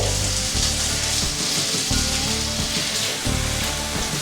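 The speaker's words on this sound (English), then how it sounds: "I'm going to start adding in the rice." Rice frying in a hot pan alongside beef and eggs, a steady broadband sizzle with occasional scraping and stirring clunks, close and continuous with no talk.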